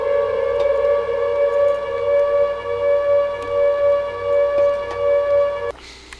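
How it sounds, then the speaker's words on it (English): A loud, sustained civil-defense style siren in the Silent Hill Metamorphis video game drones with steady wavering tones for several seconds, then cuts off abruptly, leaving a faint eerie residue. "Why would the siren make the monsters run away?"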